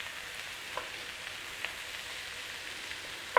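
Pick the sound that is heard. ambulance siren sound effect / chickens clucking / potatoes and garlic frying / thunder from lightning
potatoes and garlic frying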